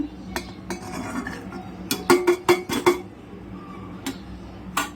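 Carrots tipped into a pot of vegetable pulao, a quick run of sharp metallic clinks and knocks from a spoon against the pot, close and clear, with a few scattered taps before and after.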